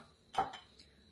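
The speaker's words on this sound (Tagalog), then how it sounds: "Si Habi naguhugas." Brief clinks of dishes and cutlery as someone washes plates, one sharper clatter followed by a couple of fainter knocks, quiet and close.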